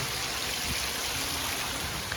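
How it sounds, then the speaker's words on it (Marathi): A constant rushing wash of water, like a waterfall heard from some distance, steady and fairly quiet with no voices, near Visapur Fort in the monsoon. "हा भाजी धबधबा आहे"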